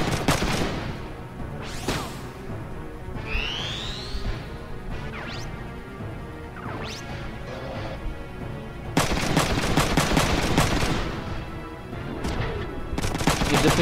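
Gunfire and crashing impacts in the PS1 game Front Mission 3, dense clattering bursts of shots and metallic smashes layered over game music, loud and continuous, with a sharper flurry of rapid volleys near the end.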